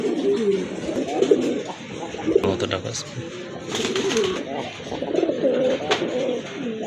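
Red checker pigeons coo in low, throaty, repeated phrases at close range at a pigeon sale, with someone speaking briefly over the birds.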